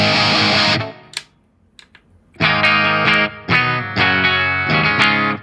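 Electric guitar through a Fender Tonemaster Pro on the Mark IIC clean channel: a sustained chord cut short, a brief near-silent gap with light pick clicks, then a run of bright, crisp strummed chords.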